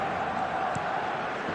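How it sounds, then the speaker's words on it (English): Stadium crowd in an eFootball match reacting after a goal brings a team back into the game, a steady broad murmur of many voices filling the space, with no distinct cheer or peak across the short stretch. "the crowd are reacting to that now"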